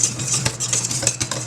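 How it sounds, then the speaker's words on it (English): A whisk scraping and clinking through dinner roll dough of flour in a bowl, quick rhythmic metallic strokes close up, with no talking. "And just keep whisking away."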